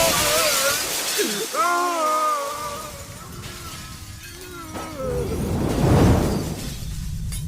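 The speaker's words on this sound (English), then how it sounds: "Arya of Ravan's passion, shattered into a million pieces." A shattering sound effect in a fantasy audiobook, tonal shimmering swells building to a crashing burst near the end, with no narration over it.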